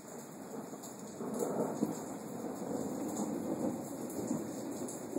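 Thunder rolls and rumbles through a thunderstorm over steady rain on surfaces, loud and continuous with swelling peaks and no voices.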